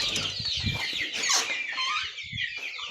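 Andijan black chicks, month-old birds kept for sale, chirp and cluck busily in a dense continuous chorus, with soft shuffling and a brief wing flutter close by.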